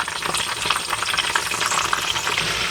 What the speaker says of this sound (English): we're gonna deep fry the eggplant